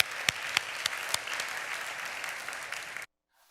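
A church congregation at a Sunday service claps in a steady, even wash of applause with a few sharper individual claps, fairly soft overall, cutting off abruptly into silence near the end.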